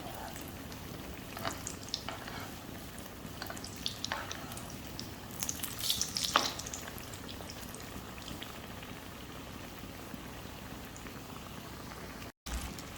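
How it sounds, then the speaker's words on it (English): A chicken shami kebab patty fries in a pan, producing a steady close crackling sizzle with a few brief pops and clicks, and no voices. "Now flip it to the other side. Fry it until golden brown."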